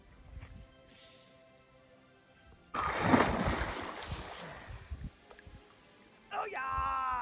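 Water at a natural hot spring surges in a sudden close splash as people enter to swim, then ripples and laps more quietly while voices talk.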